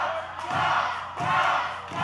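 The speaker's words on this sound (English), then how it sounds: "The crowd chanting Cal, Adonis." A wrestling arena crowd at an OVW TV show chants in two rhythmic rising swells, loud and roomy with thumps beneath.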